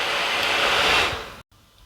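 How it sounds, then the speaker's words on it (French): An electric fan runs with a loud, close, broad whooshing hum, then abruptly cuts out and leaves a quieter residual hiss. "Donc là, on entend le bruit du ventilateur."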